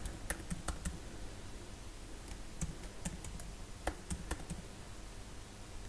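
Computer keyboard keys tapped in quick bursts while a username and password are entered, with clusters of crisp clicks separated by short pauses over a low background hum.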